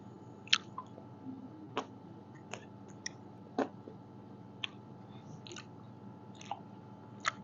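Crunchy Krabby Patty bites are chewed close to the mouth in quiet, scattered crisp crunches and wet clicks, spaced irregularly over a low background hum, with no talking.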